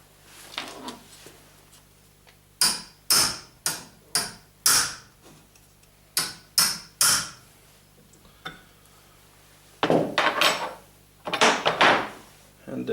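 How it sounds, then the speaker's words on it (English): Sharp metallic taps of a hammer on a wrench while reassembling a Bosch DC dynamo, in short bursts, a few quick knocks at a time with pauses between, close by and fairly loud. "We'll give the wrench a little tap with a hammer."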